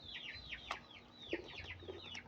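Free-range village chickens make soft, repeated clucks and high descending peeps, fairly faint and scattered across a quiet farmyard.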